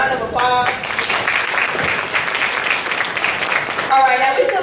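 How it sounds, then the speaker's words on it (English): An audience at a school honor night banquet claps for the honor students in a dense, sustained round of applause, with voices heard briefly at the start and end. "Can we give these honor students a round of applause?"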